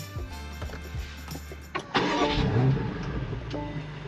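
A 2025 BMW X5M, a rare Isle of Man example, cranks and fires up at close range, the quiet idle building into a loud starter-and-catch burst that settles into a strong, rumbling high idle.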